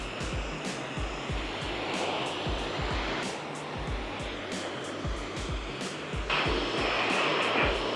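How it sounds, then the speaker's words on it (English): Water spraying as it rinses a car before a DIY ceramic coating, a steady hiss broken by rhythmic spurts that grows louder and brighter toward the end. "Let's go ahead and finish rinsing off this car."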